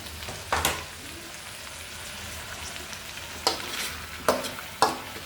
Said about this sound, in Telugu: అందులోనే కట్ చేసుకున్న టమాటా వేసేయాలి.